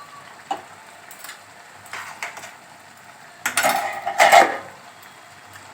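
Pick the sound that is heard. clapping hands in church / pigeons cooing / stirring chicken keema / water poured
stirring chicken keema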